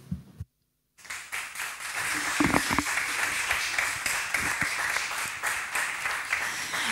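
Audience applause at a Three Kings (Reyes Magos) naming ceremony, steady dense clapping that starts after a brief silence and carries on loud and sustained throughout.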